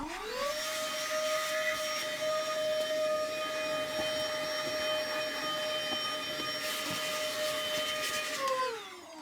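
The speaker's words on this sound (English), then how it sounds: "Nothing a good old vacuum can't take care of." A vacuum cleaner whirs up inside a leather work boot, runs with a steady loud whine for several seconds, then winds down at the end.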